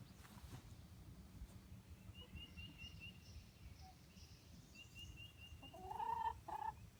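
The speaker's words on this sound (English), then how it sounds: "And this is the outside of the chicken coop." Chickens outside a backyard chicken coop, with faint scattered clucks and calls over a quiet outdoor background and a louder burst of clucking near the end.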